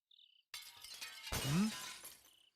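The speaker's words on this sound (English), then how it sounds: "As I pass the kitchen on my way to the baths, I hear something shatter inside" Glass or crockery shatters in a kitchen in the video game Utawarerumono: Mask of Deception: a faint chime precedes a loud crash, then a second, heavier breaking burst with scattering debris that rings out and fades.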